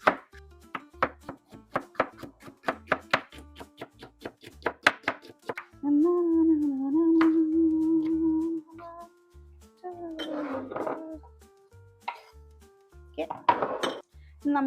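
Jalapeño and other pizza toppings being chopped on a board in a home kitchen: a brisk run of close, sharp knife taps, then a pause with a steady hum, and a few later clusters of chops with light clinks.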